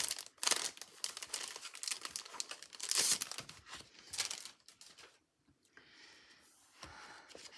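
Thin sheets from a card kit paper pad crinkling and rustling close by, in several loud crackly bursts of handling with quieter gaps, no voices.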